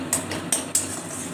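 A spatula scrapes and stirs mustard spice paste in a hot pan for a Bengali mustard fish dish, three distinct scraping strokes over a steady low sizzle.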